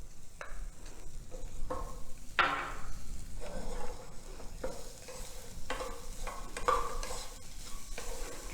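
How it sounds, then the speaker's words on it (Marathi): Jaggery and freshly grated coconut roasting in a pan over a low flame, with repeated scraping and stirring strokes over a soft, steady sizzle, close by and moderately loud. "गूळ आणि आपलं ओलं खोबरं छान भाजलं पाहिजे"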